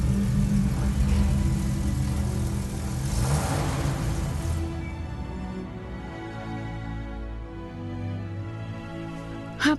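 A large car's engine rumbles steadily at close range, loud at first and easing to a lower hum, with a brief sharp sound at the end.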